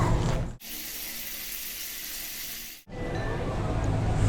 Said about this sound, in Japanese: 結構ね、シャワーの勢いが強いんで、かなり時間は余ります。